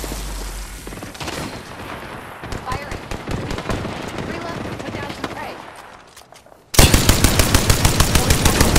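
Video game gunfire in Wolf Apex: dense automatic shots over a noisy battle bed that fades, then a sudden much louder stretch of steady rapid machine-gun fire, with speech mixed in.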